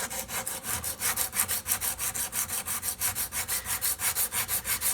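Rhythmic back-and-forth strokes of 100 grit sandpaper rubbed by hand along the grain of wood on a tenor banjo conversion, quick, even and close, about five strokes a second with no voices.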